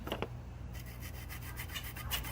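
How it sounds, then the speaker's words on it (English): A Scotch-Brite pad is rubbed back and forth over an engine part from a 7.3L Powerstroke diesel, giving a close, steady scrubbing rasp in quick repeated strokes with no talking. "Polish this thing up very, very, very easy, very simple."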